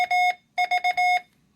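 A CW keyer sends the Morse letter V on a clear steady tone, three quick dits and a longer dah, after a preceding burst of beeps. The keying is crisp and isolated against silence.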